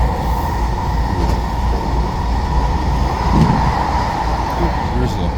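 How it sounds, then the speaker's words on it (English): A train rolls past on rail, a steady broadband rumble of wheels and cars holding at a constant loud level throughout, with faint voices occasionally under it. "Oh, there's the train about right about now."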